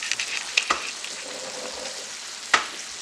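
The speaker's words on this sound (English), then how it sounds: "Sizzle, sizzle," Bacon fries in a pan with a steady, close crackling sizzle, broken by a few sharp pops and clatters of stirring.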